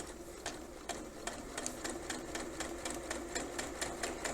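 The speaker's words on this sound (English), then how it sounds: "And I'm sewing with a much shorter stitch length." A sewing machine stitches a curved seam at a short stitch length, its motor whirring steadily with rapid, evenly spaced needle clicks, close and alone with no voices.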